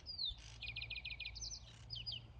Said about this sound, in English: I have this beautiful little bird right here.